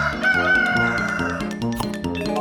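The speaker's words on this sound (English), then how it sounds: "It's a rooster." A rooster crows clearly over a bouncy, lively music track, fairly close and loud, with a short trailing cluck near the end.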